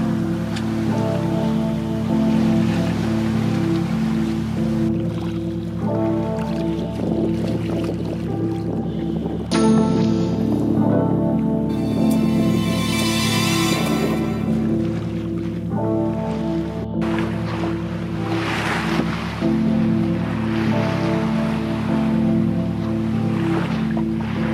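Open sea water washing steadily around a sailing boat heading out from Micronesia toward Yap, a continuous close rush of waves and spray over a low, even tonal hum, with no talking.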